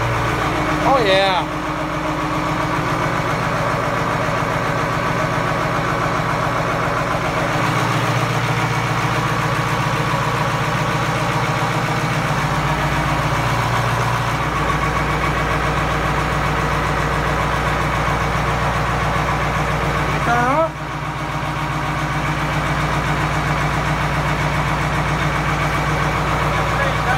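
Caterpillar 3208 diesel engine idling steadily after a cold start from two months of sitting: a continuous, loud, low, even rumble that shifts pitch slightly partway through, with brief talk near the start and end.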